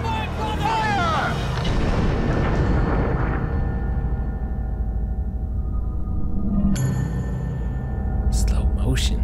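A firing squad's gunfire erupts in 1979 Revolution: Black Friday, a loud deep boom that rumbles and fades over several seconds before a sharp high ringing tone and muffled effects cut in.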